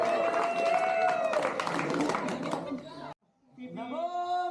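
A group claps together in a dense, continuous burst with voices mixed in, then the clapping cuts off abruptly and chanting voices take over.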